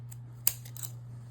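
Scissors snipping through craft paper for an artist trading card, one sharp close cut followed by a couple of softer snips over a low steady hum.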